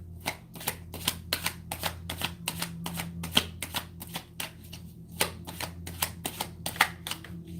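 Tarot cards shuffled by hand, a quick steady run of crisp riffling snaps, close and fairly quiet over a low background hum.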